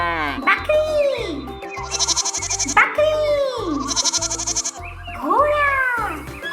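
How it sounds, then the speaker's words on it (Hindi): A cartoon goat bleats in wavering, quavering cries that recur three times over a thumping, upbeat children's music track in a kids' animal-names cartoon. "बकरी"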